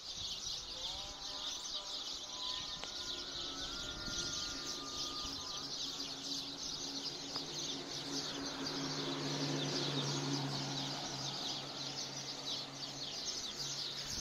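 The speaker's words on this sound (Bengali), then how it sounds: "প্রচন্ড পরিমাণে পাখি শব্দ শোনা যাচ্ছে। কি পরিমাণ শব্দ হচ্ছে পাখির শব্দ," Many birds in planted trees inside a fenced enclosure chirp and twitter in a dense, steady afternoon chorus, a continuous high wash of calls with a low hum underneath and no speech.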